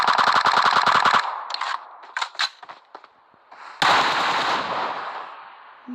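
Gunfire in the mobile game PUBG Mobile: a loud, rapid automatic burst, then scattered single shots and clanks, then a second sustained burst that fades out.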